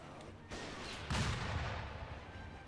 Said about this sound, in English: You need to stop shooting me out of the air.